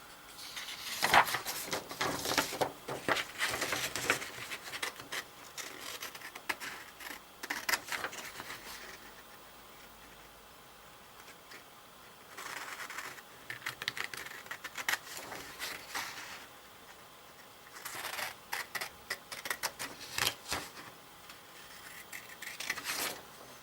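Scissors cutting out a paper pyramid net, bursts of rapid crisp snipping and paper rustle close up, coming in several clusters with quieter gaps between, no talking.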